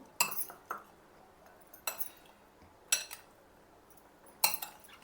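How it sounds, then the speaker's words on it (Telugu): A tablespoon mixing corn salad dressed with half a lemon's juice in a bowl, producing four or five sharp metallic clinks and scrapes spaced about a second apart, close and otherwise quiet. "తర్వాత 1 టేబుల్ స్పూన్ తీసుకొని బాగా కలిపేయండి దీన్ని"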